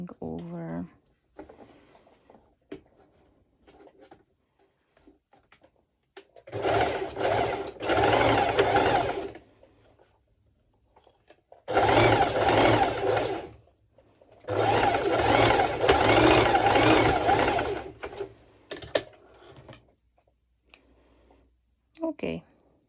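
A sewing machine stitches a folded seam on a twisted knot skirt in several loud, rapid bursts of a few seconds each, with quiet pauses and a voice speaking between them.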